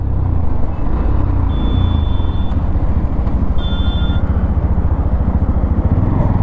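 Yamaha FZX 149cc motorcycle ridden through a U-turn, its engine a steady loud rumble close by with a constant drone throughout and faint high tones over it, with no talking.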